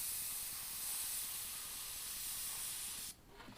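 Airbrush spraying paint onto a t-shirt from about six inches away, a steady close hiss of air and paint that runs continuously for about three seconds, then cuts off abruptly.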